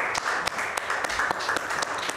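A group claps in a fairly steady rhythm, with sharp distinct claps over a bright wash of applause, fairly close.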